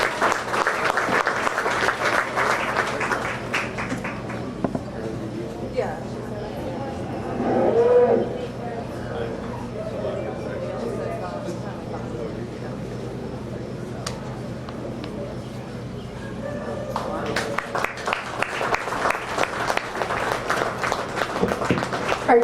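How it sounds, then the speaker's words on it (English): Applause rises for the exhibitors at the 2022 Ida County Fair beef show, with a steady round at the start and again toward the end. A single cow moos loudly in the middle, and voices murmur around the ring. "Let's give all the exhibitors a round of applause,"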